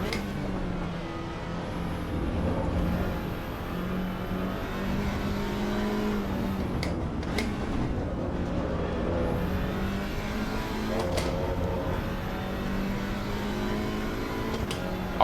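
A race car's engine revs and drones in the Assetto Corsa Evo racing game, a loud sustained tone that rises and falls with gear changes over fifteen seconds, with no talk.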